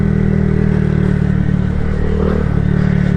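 A 2022 Honda Grom motorcycle engine drones steadily while riding, close and loud, with a constant low harmonic hum and slight clatter throughout and no voices.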